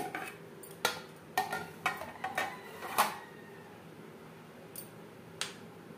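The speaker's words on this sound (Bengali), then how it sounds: "এবার আমি একটু বড় বড় টুকরো করেই কেটে নেব।" A knife chops peeled papaya into large pieces on a board, giving about eight crisp, separate taps in an uneven rhythm. The taps are close and moderately loud against a quiet room.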